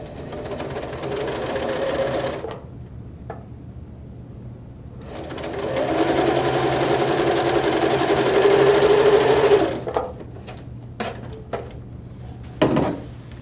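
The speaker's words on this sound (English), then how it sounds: "I'll take that over to my sewing machine, and I'm going to stitch that line down." A sewing machine stitches a line in two steady bursts of rapid stitching, separated by a pause, then a few scattered clicks and handling knocks as it stops.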